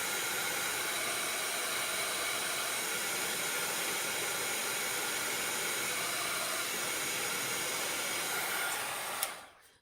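A hair dryer blows steadily on craft layers on a pillar board, a loud, even, close hiss of rushing air that cuts off abruptly near the end.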